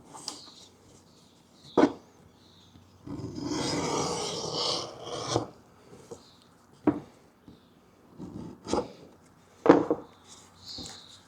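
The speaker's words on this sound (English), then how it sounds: "we'll go ahead and clean up these edges." The edges of a leather knife sheath are cleaned up with short scraping strokes, followed by one longer rasping pass. The strokes are spaced irregularly and close by in a quiet room.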